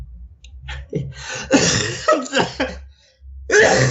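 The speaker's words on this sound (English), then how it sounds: "When I laugh, I have to cough." Several harsh, close coughs come in bursts with brief pauses between them, sounding raspy and throaty.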